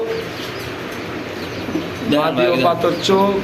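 Pigeons coo at a farm selling Beauty pigeons, including stone-eyed birds, with a faint low cooing murmur that is soon joined and largely covered by loud voices talking nearby.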